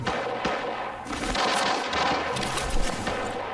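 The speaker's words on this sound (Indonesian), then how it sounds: "kayak ada yang nembakin gua loh" Dense gunfire from a shooter video game on a military port map: a rapid run of sharp shots and thumps in a continuous barrage, fairly loud and without talk.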